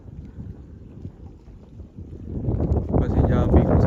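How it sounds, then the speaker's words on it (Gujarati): Wind blowing over a river during a family boat ride in the countryside, heard as low rumbling buffeting against the microphone that swells noticeably louder and rougher toward the end. "પવન એવો મસ્ત છે કે પાણી પાસે ઉઠી એટલે ઠંડો જ આવે ને"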